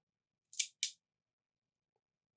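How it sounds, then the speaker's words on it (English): Two quick, crisp metallic snips close to the microphone, a fraction of a second apart, then silence. "the only sharpest thing that I think is here is this scissors implement"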